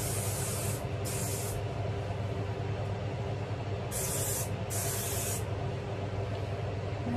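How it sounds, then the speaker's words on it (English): Finishing hair spray hisses from an aerosol can onto loosely curled hair, four short, close bursts, two early and two mid-way, over a steady background hum. "I'm gonna just spray a little bit of finishing spray."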